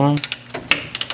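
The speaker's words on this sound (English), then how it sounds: "Just got to get these caliper bolts off." Ratchet clicking quickly while loosening 14mm brake caliper bolts, a few close, crisp bursts of pawl ticks within about a second.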